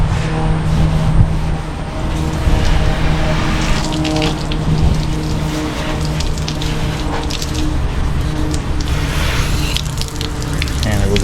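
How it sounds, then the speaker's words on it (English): Hose water rinsing the painted body of a 1959 Impala, a steady close hiss and splash that runs without a break, with a voice faintly under it. "rinse it off here"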